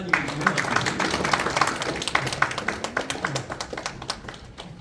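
A crowd at a 2022 association general meeting gives a round of applause, many hands clapping in a rhythmic patter that thins and fades toward the end, with a voice speaking over it.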